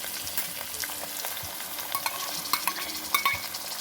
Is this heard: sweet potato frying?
yes